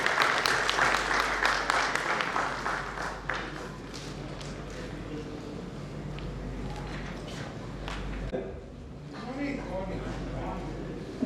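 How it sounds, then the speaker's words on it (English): Seminar attendees at GCCI give a round of applause, a few seconds of scattered, fading clapping that then gives way to a steady room murmur and talking. "A big round of applause."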